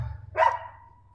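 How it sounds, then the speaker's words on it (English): A dog gives a single loud bark partway through, ringing briefly before fading, with a steady low hum running underneath throughout. "the dogs have to be barking"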